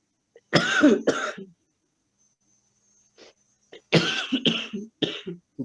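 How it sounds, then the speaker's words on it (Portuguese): Several people cough in a classroom setting, with two close, forceful bursts of harsh coughs, a quiet pause with faint throat sounds, then another cluster of loud, rough coughs. "Saúde aí para quem tá tossindo."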